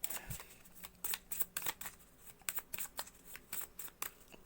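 Tarot cards shuffled close up in a quick, steady run of soft riffling flicks and slaps, fairly quiet, with no voice over them.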